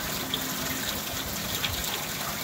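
Water gushes steadily out of one-inch holes in the bottoms of buckets, a soft continuous splashing and trickling heard close up without talk.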